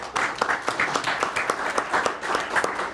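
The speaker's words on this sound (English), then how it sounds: "Please give him a round of applause." A school board meeting audience applauds, a modest group of people clapping in a fairly even, sustained patter for a few seconds.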